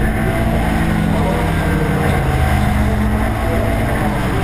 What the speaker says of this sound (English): And Patrick Mortel, despite giving away a little bit in horsepower probably, managed to go through on the inside there.